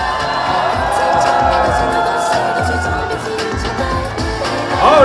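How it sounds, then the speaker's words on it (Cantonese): A live crowd cheers, whoops and shouts for a girl dance group at a promotional pop-up event, a steady loud roar lasting throughout with a brief swell of shouting at the end. "請大家再次俾熱烈嘅掌聲同歡呼聲"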